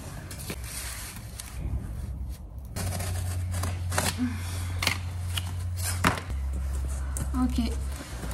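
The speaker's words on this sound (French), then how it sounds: "je vais venir le découper au cutter" A utility knife cuts out a 39 by 39 square template for a skylight counter-frame, making a run of short, close scraping and slicing strokes over a steady low background hum.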